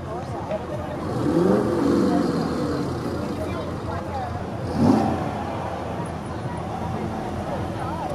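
A hot rod car engine revs at a small-town festival parade on a hot day: a rising roar around the second second and another brief rev near the fifth, over steady crowd and street noise with talk mixed in.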